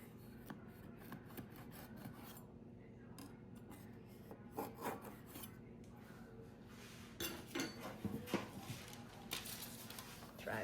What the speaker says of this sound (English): Sometimes you have to run a knife around the edge to make sure that the cake has loosened away from the sides